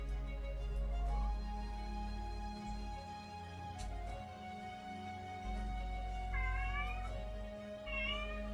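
Miso the cat yowls and meows after waking up, several drawn-out, wavering cries spread across the stretch at moderate distance over a low background hum, with no talking.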